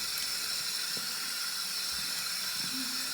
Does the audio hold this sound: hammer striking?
no